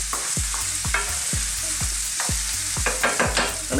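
Mushrooms sauteing in a frying pan for a cheese and cream sauce, with repeated rhythmic stirring scrapes over a steady close sizzle and no talking.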